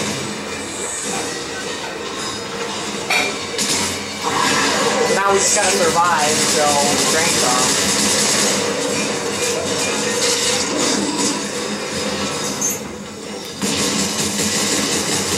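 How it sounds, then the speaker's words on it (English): A tram in the video game Dead Space 3 rolls along its rails, with a loud, continuous rumble and shrill wheel squeals rising partway through. Players talk over the ride. "Board the tram, here."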